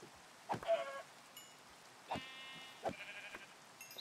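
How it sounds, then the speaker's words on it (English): Sheep bleat in the Minecraft video game, several short, separate bleats spaced a second or so apart over faint background noise, fairly quiet overall. "Okay, there's a sheep here."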